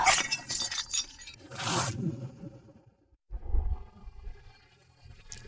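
A porcelain plate smashing in a dramatic confrontation, with a bright crash of shards, then scattering and rattling pieces, a brief silence, and a low thud.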